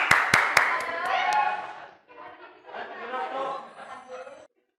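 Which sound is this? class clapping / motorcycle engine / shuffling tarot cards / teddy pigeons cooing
class clapping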